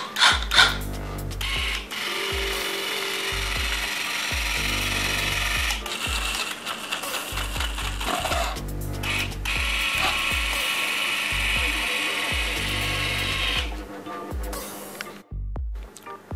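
A manual competition robot's rope-and-pulley mechanism runs after a switch is pressed, giving a loud, continuous ratcheting, gear-driven clatter with rhythmic mechanical pulses and brief stops.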